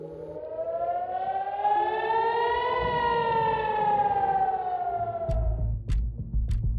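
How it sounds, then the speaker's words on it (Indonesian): An air raid warning siren wails over Nahariya, Israel, one long rising and falling tone echoing across the city, with low rumbling and thuds toward the end. "suara sirine peringatan serangan udara yang menggema di seluruh kota"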